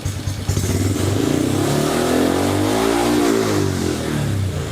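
Honda Wave125 motorcycle with an ECU-tuned engine revving up toward 5,000 rpm, a loud close-up rising roar that climbs, holds, then eases back, with no talking.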